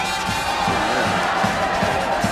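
Dense crowd noise at the Sète water jousting tournament, spectators packed in stands, on barges and along the quays, a steady close murmur of many voices with scattered shouts.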